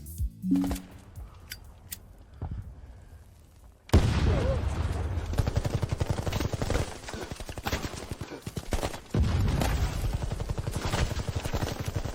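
AI-generated gunfire from Seedance 2.0 crackles in rapid bursts with sharp bullet impacts after a quieter opening, loud and dense, continuing in waves.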